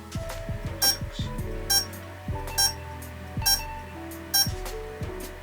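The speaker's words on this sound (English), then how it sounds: "different kind of beep for a different firmware, same error code" Repeated electronic beeps from an electric outboard motor controller signalling an error code, in short bursts at a regular rhythm, with sharp clicks and low thumps between them, no talking.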